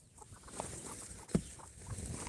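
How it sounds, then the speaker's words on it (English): A broody hen gives soft, low clucks and murmurs, scattered and faint, with one sharper knock or cluck midway, heard close in a quiet coop. "I think I got another broody hen."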